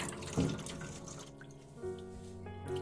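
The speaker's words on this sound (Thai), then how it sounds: "ล้างล้างแล้วก็เขย่าเขย่ากับน้ำค่ะ ให้ทรายหลุด" Dried pickled cabbage is rinsed and shaken in water, producing faint, close splashing and trickling from a running tap into a basin, with a few small drips and no voices.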